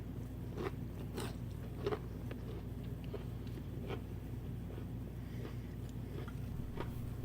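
Crunchy keto bread crisps dipped in ranch are bitten and chewed close up, giving several sharp, scattered crunches over a steady low hum. No one speaks.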